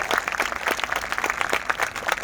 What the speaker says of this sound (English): So let's give another round of applause for our great students behind me.